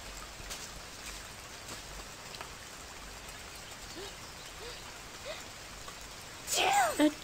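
Soft, continuous rainfall in the children's video game Sago Mini Forest Flyer, a faint steady hiss running throughout, with a brief louder game sound or voice near the end.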